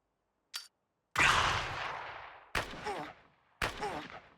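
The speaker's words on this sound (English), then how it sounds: "We're gonna shoot them all down." Gunfire in the strategy video game Xenonauts 2: a short crack, then three loud, separate shots or bursts, each with a long ringing decay, spaced about a second apart with silence between.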